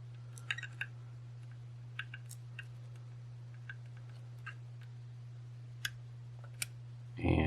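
Faint, sparse ticks from pins being picked in a CompX Turbine lock, a handful of sharp little clicks spaced irregularly over a steady low hum.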